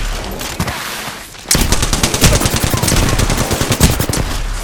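Mozambique shotgun gunfire in the Apex Legends video game: a rapid, dense string of loud sharp shots packed close together, starting abruptly after a quieter stretch of background game noise and continuing to the end.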